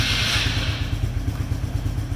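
A Polaris RZR 170 engine catching and settling into a steady, close, pulsing idle after a brief louder cranking rush at the start, without choke, in a garage.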